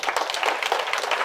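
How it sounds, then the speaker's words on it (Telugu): An audience claps loudly in a dense, continuous patter of many hands, close and steady for the whole moment. "వెరీ గుడ్, గట్టిగా చప్పట్లు కొడదాం."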